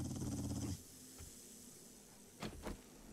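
A dog in the video game 7 Days To Die gives a short growling snarl, followed by a couple of faint, brief huffs or footfalls, fairly quiet and alone.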